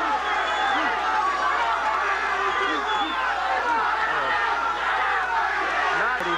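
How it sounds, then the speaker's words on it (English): A boxing arena crowd roars and cheers throughout a bout, a dense, continuous wall of voices with shouts rising above it, loud and steady, a commentator talking over it. "The crowd, of course, very much into it on Bobby Chess's behalf."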